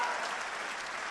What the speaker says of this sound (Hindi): और अब आपकी तालियां उठेंगी।